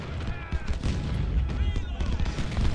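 Cannon fire from artillery in the Civil War strategy game Ultimate General: Civil War, a fort battle with enemy ships, heard as dense overlapping booms and rumbling blasts for a few seconds.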